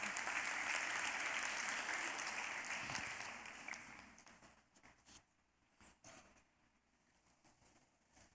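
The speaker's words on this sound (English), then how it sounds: "let's give them a nice round of applause" Audience applause fills a dance recital hall, loud and dense at first, then thinning into scattered claps and fading to near quiet.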